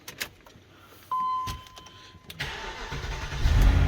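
A few faint clicks and a steady electronic chime come first, then a BMW X5 engine cranks, catches and settles into a rumble that grows louder.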